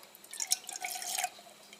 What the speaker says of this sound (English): And I'm going to put some water.